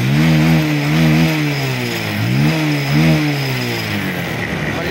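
A Honda NS125 fuel-injected motorcycle engine revs up and down in repeated swells, its note wavering and stumbling from a misfire, loud and close with no talking.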